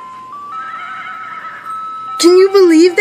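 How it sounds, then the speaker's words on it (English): An ice cream truck jingle plays a thin, sustained electronic melody, then a loud, close horse neigh sample bursts in and whinnies over it to the end. "the laughing noise is actually the sound of a horse neighing"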